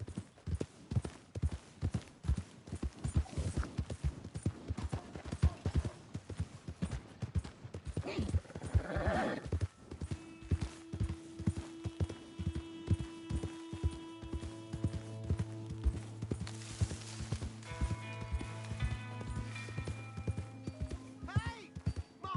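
Horse hooves clip-clop steadily at a walking-to-trotting pace in the Red Dead Redemption 2 video game, close and clear, with a whinny partway through and soft music tones rising behind.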